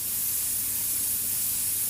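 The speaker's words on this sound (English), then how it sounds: "You get the spraying nice." Airbrush spraying black paint onto a mask, a steady, loud, continuous hiss of air and paint held throughout without a break.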